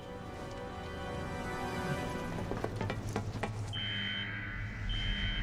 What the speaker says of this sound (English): That's an alarm.